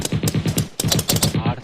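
Rapid bursts of gunfire crackle close and loud during a paintball game, two quick volleys of evenly spaced shots separated by a short gap.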